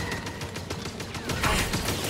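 Rapid blaster fire crackles in Star Wars Jedi Fallen Order, with repeated sharp shots in quick uneven bursts during combat and a busy backdrop of battle noise.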